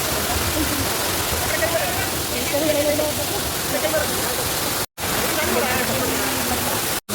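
Varavi waterfall roars as a dense, steady rush of falling water, loud and close, with faint voices mixed in and two brief dropouts.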